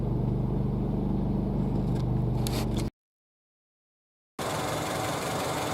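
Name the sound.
Honda Civic engine vibration from a bad engine mount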